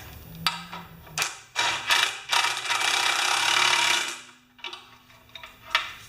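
A wrench ratchets and clicks while tightening bolts on the drive assembly of a 1973 Briggs tiller, with a longer continuous ratcheting run among scattered metallic ticks, close by and with no talking.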